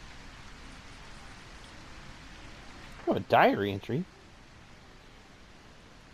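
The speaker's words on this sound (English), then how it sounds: "That sounds like rain or water stream or waterfall can cover." Steady rain or running water hisses as a constant broadband wash in the video game A Quiet Place: The Road Ahead, continuing at an even level while a voice speaks briefly over it.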